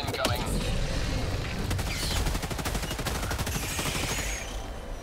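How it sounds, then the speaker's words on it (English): Heavy weapons fire, including a rail cannon, crackles in Helldivers 2 combat on Helldive difficulty. The shots come in a dense, continuous barrage with booming impacts, loud throughout. "This time rail cannon don't disappoint me."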